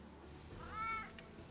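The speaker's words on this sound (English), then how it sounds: "I hear a kitty." A cat meows once in New Pokemon Snap, a single short rising-and-falling cry over a quiet in-game ambient background.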